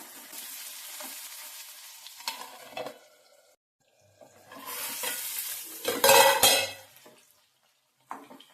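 Green plantain pieces fry in oil and are stirred, giving close sizzling with scraping stirs that swell in two louder bursts, separated by brief quiet gaps.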